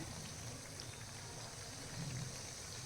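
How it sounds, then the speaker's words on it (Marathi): Bread pakora frying in hot oil over a low gas flame, a steady soft sizzle and crackle that stays even throughout, close and quiet with no talking. "खालची बाजू अशीच छान फ्राय करून घेऊया आपण"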